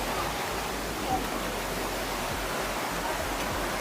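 Waterfall in Kerala gives a steady, dense broadband roar of falling water, constant and fairly loud throughout with no distinct events.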